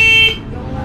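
The stock horn of a motorcycle gives a short, loud, buzzy electronic honk lasting about a quarter second, then cuts off into low engine or background rumble.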